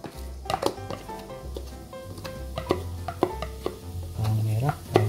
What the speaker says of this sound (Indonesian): bawang merah, bawang putih sama cabenya ditumis dulu